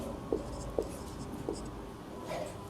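A pen scratches on paper during a Class 10 maths lesson, writing out an equation in a few short, distinct strokes over a quiet room background.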